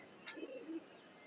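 A male pigeon kept at a home loft gives a single soft, low coo, faint and close, with a brief flutter just before it and quiet surroundings.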